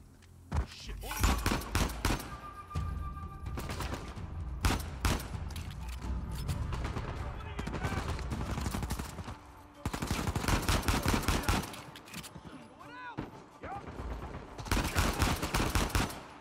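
Gunfire in the video game Uncharted 4: A Thief's End, with dense bursts of rapid shots and a loud sustained fusillade broken by brief pauses, close and intense throughout.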